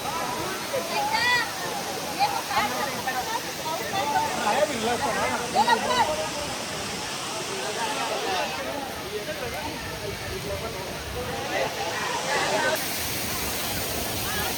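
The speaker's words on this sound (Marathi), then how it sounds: "बघू शकता परत एकदा धबधबा खूप जोरात वाहतो." A strong waterfall pours steadily at a temple site during heavy monsoon rain, a continuous broadband rushing roar that stays loud throughout, with people's voices talking faintly over it.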